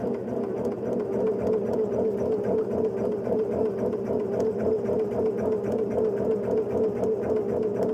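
A sewing machine runs steadily and close up, stitching across a quilt block in one continuous, even whir that holds the same pace throughout without pausing.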